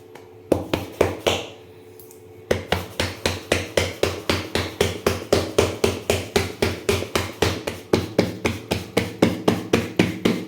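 Bhakri flatbread dough being patted flat by hand, a fast, steady series of sharp close slaps after a brief pause, loud and rhythmic with no talk.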